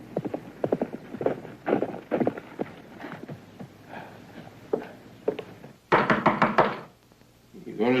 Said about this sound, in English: You gonna stand there and knock all day long?